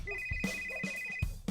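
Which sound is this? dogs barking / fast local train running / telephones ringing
telephones ringing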